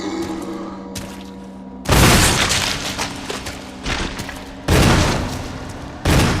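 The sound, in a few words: shotgun shots in the video game Resident Evil HD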